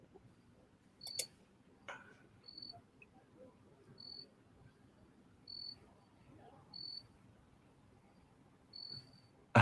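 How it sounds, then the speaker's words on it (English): Crickets chirp in regular short bursts about once a second, high and thin over a low murmur of background noise, with a couple of sharp clicks. "I can hear the crickets chirping."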